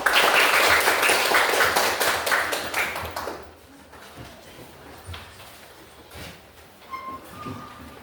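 Lively applause from an audience of students greeting the first group's presentation, loud and dense at first, then thinning to scattered claps and fading away.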